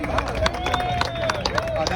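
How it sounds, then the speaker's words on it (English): Crowd at an outdoor political rally in Miami, broad broadband noise with scattered claps and cheering, loud and sustained, with voices over it. "let's have a round of applause for the national anthem and Pledge of Allegiance"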